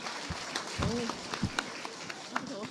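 An audience at a political party forum in a hall claps in a soft, steady patter while someone speaks over it with scattered louder bursts.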